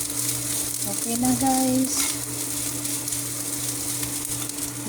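Bitter melon and eggs fry and get stirred in a pan, giving a steady sizzle throughout with scraping and tonal clinks of the utensil against the pan. A voice speaks briefly partway through.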